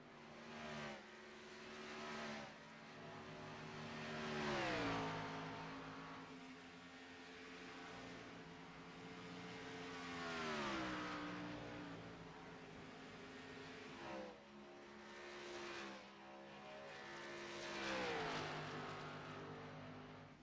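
Xfinity Series stock cars racing at Homestead-Miami in a video game, engines droning steadily and rising and falling in pitch through repeated gear shifts and laps, loud and continuous with no talk.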